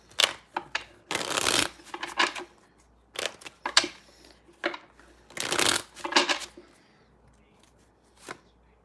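Playing cards shuffled by hand in several bursts of riffling and flicking, each a few seconds long, with short gaps and lighter taps between them, close and crisp.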